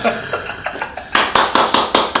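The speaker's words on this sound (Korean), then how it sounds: "물개 박수 치네." Hands clap in quick, even bursts, like a seal's applause, about six sharp claps that grow louder and sit over faint background talk.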